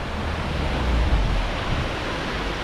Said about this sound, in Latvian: Šeit neliels ūdenskritums pāri Jāņupīti.